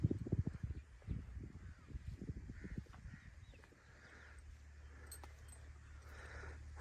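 A mare with a man riding on her walks along, her hooves clopping in a quick, irregular series of soft thuds for a few seconds before fading into faint background hum.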